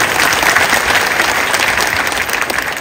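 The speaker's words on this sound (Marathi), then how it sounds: "जोरदार टाळी वाजा गाईसाठी" An audience at a Shivnaam Saptah religious gathering claps loudly and continuously, a dense crowd applause that holds steady throughout.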